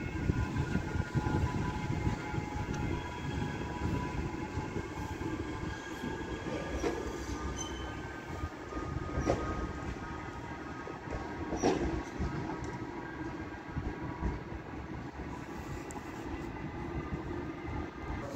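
A Northern class 331 electric train arriving at Manchester Airport station, its steady rolling rumble and faint wheel squeals carrying through at moderate distance, with no voices.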